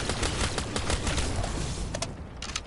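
Rapid gunfire in a zombie shooter video game, a dense unbroken stream of sharp shots packed close together for the whole stretch, loud and up front with no talk over it.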